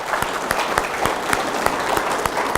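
Sustained crowd applause at a city's State of the City address, a dense, even wash of clapping from a large audience holding steady throughout.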